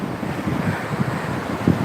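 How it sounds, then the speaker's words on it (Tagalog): Steady roar of wind and surging surf, with rough wave rushes rising and falling under constant blustery noise. "Ayan, malakas ang alon."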